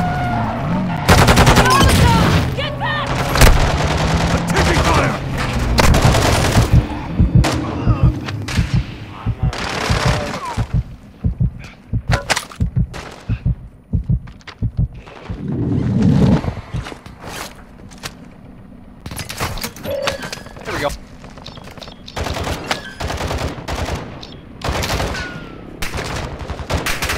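Intense gunfire in a Call of Duty battle royale match: rapid bursts of automatic and single shots crack in heavy, irregular volleys, with some footsteps and sparse quieter moments between clusters of fire.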